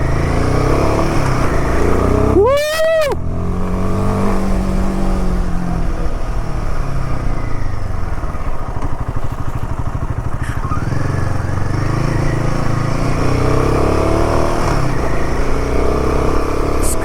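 A Royal Enfield Himalayan motorcycle rides steadily with a loud, continuous engine drone on a mountain pass descent, a brief rising whine early on and a few faint clicks later.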